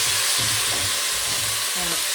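Bay leaves being stirred into a simmering tomato rice soup pot, with a steady bubbling sizzle and a few low scraping strokes of the spoon close by, no voices.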